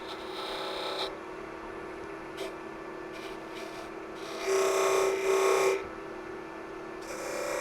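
A woodturning tool cuts a bead on wood spinning between centres on a lathe, used like a negative rake scraper. It makes a steady close rasping whir with a steady hum and a louder stretch of scraping midway.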